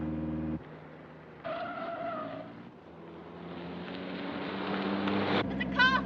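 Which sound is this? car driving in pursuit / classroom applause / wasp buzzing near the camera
car driving in pursuit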